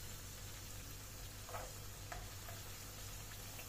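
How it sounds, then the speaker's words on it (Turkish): Potatoes fry in hot oil with a quiet, continuous sizzle and a few faint crackles and ticks, low hum underneath, no speech. "Sonra kalan patateslerimi de aynı şekilde kızartıyorum."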